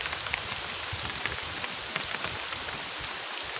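Steady rain falls throughout, a dense continuous patter of drops striking a surface at moderate loudness, with no voices.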